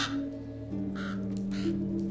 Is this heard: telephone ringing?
no